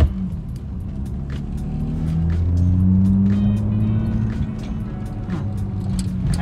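A BMW E36 drives slowly down a residential street, its steady engine drone and road rumble heard from inside the car, with the engine note rising gently and faint ticks and rattles over it.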